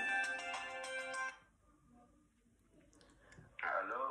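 An incoming phone call ringtone plays loud and melodic at the start, then stops. A quiet gap with faint clicks follows before another bright tonal burst returns at the end.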